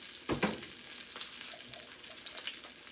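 Salmon fillet searing in a hot pan with a pat of butter melting over the top, giving a steady close sizzle and spatter with a brief louder burst near the start.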